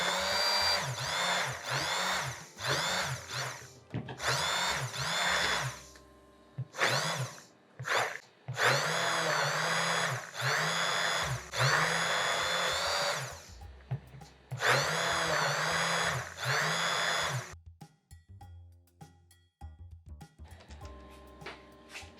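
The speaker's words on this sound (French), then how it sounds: "Je vais mixer en incorporant progressivement mon beurre." A food mixer whirs loudly as it blends a bûche insert mixture while butter is gradually worked in. Its strained motor whine cuts out and restarts in several bursts, then falls quiet near the end.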